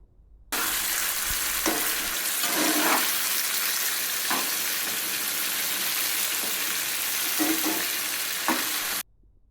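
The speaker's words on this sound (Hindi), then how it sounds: "उसके बाद मैं इसमें चिकन ऐड करके इसको मैं फ्राई करूँगी।" Chicken frying in oil over a medium-high flame, a loud, dense sizzle that starts abruptly, holds steady with occasional stirring bursts, then cuts off sharply.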